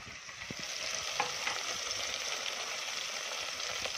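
Squash (kalabasa) sautéing in a pan, a steady moderate hiss of frying that runs without a break, with a few faint clicks from the pan or utensil.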